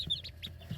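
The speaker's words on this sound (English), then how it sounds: "Then we have 3 little black and yellow chicks who are black copper marin or maran." Young Black Copper Maran chicks give soft, quick clucks and peeps, several short calls close by and faint in under a second.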